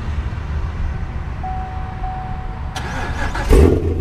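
A manual-transmission car starts by push button, with a short whirring crank followed by the engine catching and settling into a loud, close idle rumble after a faint chime.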